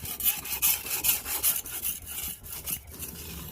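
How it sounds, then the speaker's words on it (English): A blade scrapes back and forth across a natural quartz and feldspar sharpening stone in quick, rhythmic rasping strokes, close and moderately quiet. "That's the abrasive particles or the quartz and feldspar breaking away from the rock here as we're sharpening"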